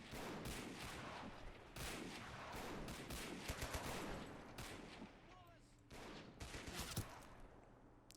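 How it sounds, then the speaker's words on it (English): Dense, continuous gunfire with rapid rifle and machine-gun bursts and bullet impacts in the World War II strategy game Men of War: Assault Squad, a coastal commando raid in Norway, loud and sustained throughout. "Look at all those bullet impacts. That's awesome."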